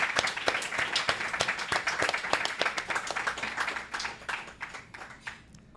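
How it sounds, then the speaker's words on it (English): Audience applause at a live game-creation event in Los Angeles, a dense patter of many hands clapping with a few louder close claps, thinning gradually toward the end. "let's give these guys a round of applause"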